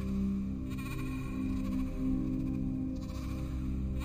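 Sheep bleat in a few drawn-out, wavering calls over a steady low background, with no talking.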